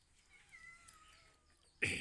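A cat in a Thai home, waiting to be fed fish and duck legs, gives one drawn-out, fairly faint meow, followed by a sudden louder noise at the end.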